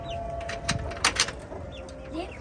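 A breeding pair of roosters kept with their chicks gives brief, faint clucks and soft bird calls against a quiet yard hush.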